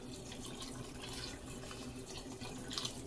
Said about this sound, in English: just going to cover them with my water